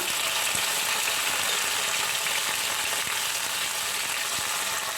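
Pressure-cooked onions sizzle steadily in oil, a constant frying hiss broken by a few soft clicks from stirring.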